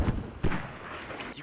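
Smoke mortar shells landing in the military shooter Squad, two muffled booming thuds in quick succession over a steady rumbling battlefield background.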